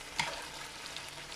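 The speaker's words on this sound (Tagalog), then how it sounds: "Pa-brown muna natin yung manok" Chicken browning in a pan with butter and garlic, a steady quiet sizzle with a few small pops and stirring scrapes, close and alone.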